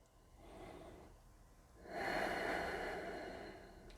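Deep breathing in a yoga class, a soft inhale followed by a louder, longer breath that rises midway and trails off, close and clear with no talking.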